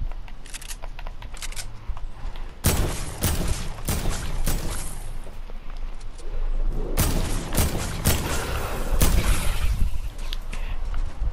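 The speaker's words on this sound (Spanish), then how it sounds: "Escucho disparos." Bursts of gunfire in the video game Fortnite crack repeatedly in clusters, sharp and fairly close, with quieter rustling between volleys.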